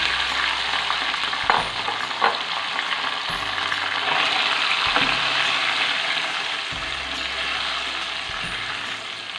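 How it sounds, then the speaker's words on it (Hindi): Ginger-garlic paste and tomato puree fry in a pot for Lahori chicken chargha biryani, a steady loud sizzle running throughout with a few clanks of a spoon stirring against the metal. "इसके अंदर मैं डाल रही हूँ लहसुन अदरक का पेस्ट, साथ ही इसमें मैं डाल रही हूँ टमाटो प्यूरी"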